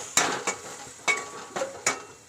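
Onion dropped into hot oil with garlic and curry leaves and stirred in a pan, giving a few sharp scraping clacks of a spoon against the metal over a soft sizzle, close up.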